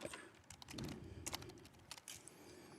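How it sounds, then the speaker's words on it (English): Busy clicking of a noisy computer keyboard, keys tapped in quick irregular bursts, fairly close and moderately loud over a low background hum. "Can hear me busily typing away in the background"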